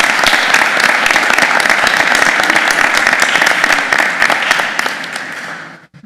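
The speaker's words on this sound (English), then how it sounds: "Can we applaud? We can." Applause from attendees at a university board of regents meeting after a motion passes, a steady dense clatter of many hands for about six seconds before tapering off at the end.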